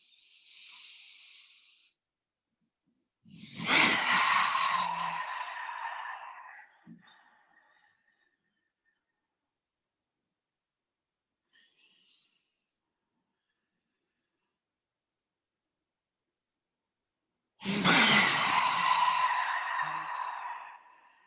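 Slow, deep breaths during a yoga breathing exercise come through as two long airy exhales, close and fairly loud, separated by long near-silent gaps.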